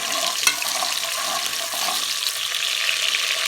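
Onion fries in hot ghee for saag gosht with a loud, continuous hissing sizzle, with a single clink near the start.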